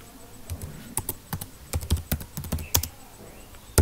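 Rapid, uneven keystrokes on a computer keyboard while entering text into Microsoft PowerPoint 2007, close and crisp, with irregular clusters of clicks and no talking.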